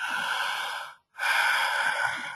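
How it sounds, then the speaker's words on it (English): A person draws a deep, loud breath in, pauses briefly in silence, then lets out a long, breathy sigh, close and clear with no talking. "Make the noise of a big breath in and a sigh out."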